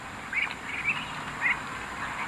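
Muscovy ducks of the large jumbo type give a few faint, scattered quacks, roughly three short calls, over a steady background hiss.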